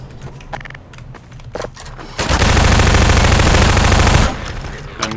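Loud sustained burst of automatic gunfire from a shotgun-wielding Combine soldier in Half-Life 2, about two seconds of dense rapid shots near the listener, preceded and followed by scattered quieter clicks and game sounds.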